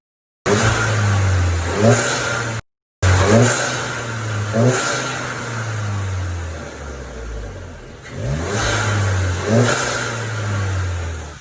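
Volkswagen GTI MK7.5 with a GFB diverter valve revving close by, several loud rising engine blips that drop back toward idle, with a brief cut near the start.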